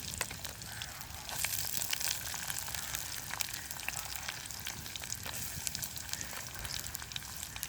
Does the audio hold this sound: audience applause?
no